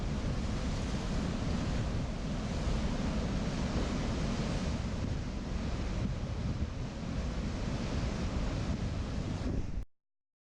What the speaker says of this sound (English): a little dangerous because of the waves and the way they crash against the rock.